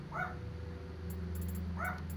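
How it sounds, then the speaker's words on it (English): Household dogs barking in short bursts somewhere in the room, two quick barks near the start and two more near the end, moderately loud over a steady background hum. "Sorry if y'all hear my dogs barking, they hear a critter or something."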